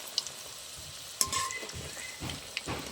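Potato french fries frying in oil on a low flame while being stirred gently, a soft, even sizzle with a few clinks of a utensil against the pan and light scraping strokes, close and fairly quiet with no talk.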